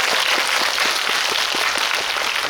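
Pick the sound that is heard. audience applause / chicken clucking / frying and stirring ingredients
audience applause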